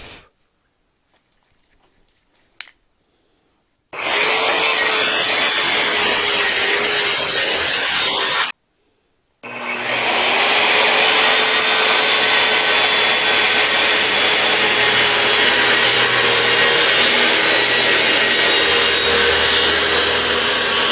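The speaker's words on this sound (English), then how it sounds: "Taking the splinters off of it." Loud, steady rubbing and rasping on a rough wooden board, about 30 by 32, as splinters are taken off before whitewashing, starting after a quiet stretch, pausing briefly, then continuing without a break and without talk.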